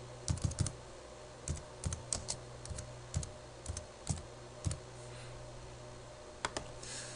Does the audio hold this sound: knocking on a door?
no